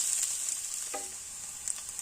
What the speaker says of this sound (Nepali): अदुवालाई एकैछिन भुट्ने।